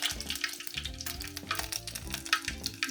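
Omena fry in hot oil with a busy, crackling sizzle, close and fairly loud. Low tonal hum and clatter run beneath it, and no one speaks.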